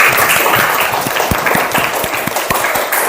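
Classroom applause for the winning student group, a dense, steady patter of many hands clapping close by, with a few sharper individual claps standing out through the whole stretch.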